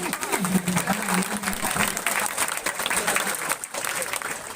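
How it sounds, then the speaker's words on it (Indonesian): A university audience of polytechnic students applauds loudly and steadily after a call for strong clapping, dense continuous clapping with a brief dip near the end. "Mana tepuk tangan kuat-kuat"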